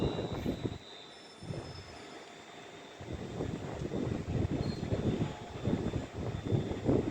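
A Class 390 train rolls through Rugby station on the West Coast Main Line. A quiet lull gives way to a broad, rumbling roar that builds and stays loud as the train passes close by.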